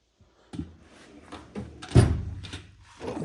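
A drawer on a US General full-bank toolbox slides open with a few short metallic thunks and a rolling rattle, close and fairly quiet, with a brief clack at the end.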